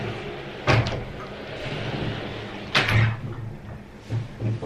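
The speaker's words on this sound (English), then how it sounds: "And then we have these big doors here that can close off the room." Four large connected sliding doors in a Tokyo Airbnb room being pulled shut, giving two distinct sliding thumps with rumbling rolls, followed by softer knocks as the panels settle, close and fairly loud in a quiet room.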